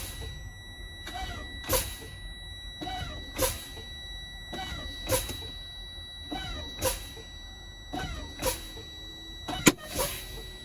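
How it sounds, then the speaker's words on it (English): Air brakes on a truck during a California air brake test, pumped repeatedly until the emergency pop-out valves trip: sharp hissing air bursts about every second and a half, a steady low idle underneath, one louder pop near the end. "I will now fan my brakes until my emergency pop-out valves activate."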